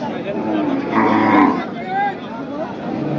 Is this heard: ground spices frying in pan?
no